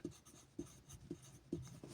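Soft B graphite pencil scratching across paper in four regular strokes, close and quiet, with no talking.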